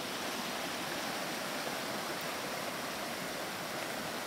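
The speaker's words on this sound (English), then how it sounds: "Sound of the running water at night." Roaring Brook running at night in Baxter State Park, a steady broadband rush of flowing stream water, even and continuous throughout with no voices.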